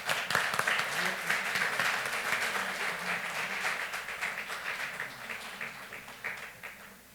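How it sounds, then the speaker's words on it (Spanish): An audience at a lecture applauds to send off a departing guest, a broad crowd of hands clapping from the start that slowly fades over about seven seconds. "Lo despedimos con un aplauso."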